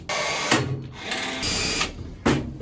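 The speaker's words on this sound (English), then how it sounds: "Now I can drill it and screw it in." A power drill with a dulling bit whirs in several short bursts, revving up and stopping between holes while fitting units inside a Peugeot J9 van, loud and close.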